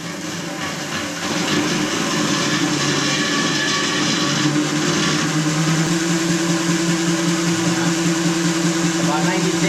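A loud, continuous mechanical whir and whine of a 32-spoon micro hydro Turgo turbine, building up after a quieter start and holding steady with a dense roar around 96 dB.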